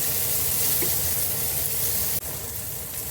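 Onions frying in hot oil in a home kitchen, a steady loud sizzle that runs through the whole moment with a brief dip near the end.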